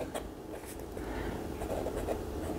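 A Pilot Plumix fountain pen with a medium flat nib scratches across smooth paper, a soft, continuous close-up scratching with faint stroke-by-stroke pulses.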